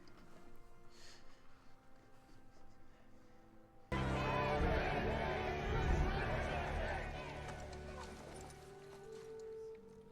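Horse hooves clopping and a horse moving in a fantasy drama scene, emerging suddenly midway amid rumbling activity and background voices, following quieter talk and music.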